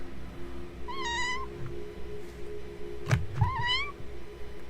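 A person imitates a cat into a microphone, two clear drawn-out meows with rising then falling pitch, spaced about two seconds apart over a faint steady hum, with a sharp click between them.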